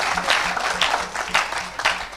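Church congregation clapping and cheering for Jesus at a lively worship service, rhythmic bursts of applause pulsing in a steady beat, with some voices mixed in.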